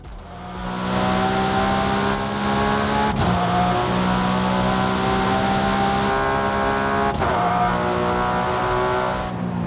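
A stock, untuned car in Forza Horizon 5 revs loudly with a raspy engine note, climbing through gears with brief dips at each shift, continuous and close with no voices.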